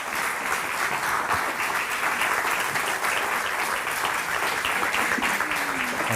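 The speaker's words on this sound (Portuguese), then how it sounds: "Sem mais demoras, uma salva de palmas," An audience at a talk in Porto claps steadily to welcome the guest, Filipa Martins, the many hands merging into an even, sustained wash with no voices over it.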